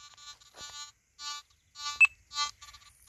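Nokta Simplex+ metal detector emitting short electronic beeps while ground balancing, a series of clean tonal bleeps with gaps, one sharper accented beep near the middle, close and clear with no talk.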